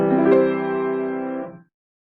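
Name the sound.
stable consonant musical sound resolving the dissonance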